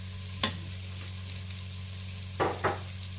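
One large onion and a shallot fry in a Cookeo multicooker over a steady low hum, with a soft sizzle and three short scraping stirs, one early and two close together near the end.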